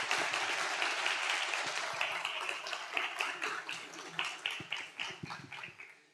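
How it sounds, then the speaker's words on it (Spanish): Audience applause at a political gathering in Colombia, a dense burst of clapping that thins into scattered, uneven claps and fades out. "para quien pido sinceramente en esta oportunidad un aplauso"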